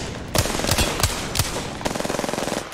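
Automatic weapon fire in the shooter game Apex Legends, several sharp loud bursts followed by a rapid rattling string of shots, close and with no talk over it.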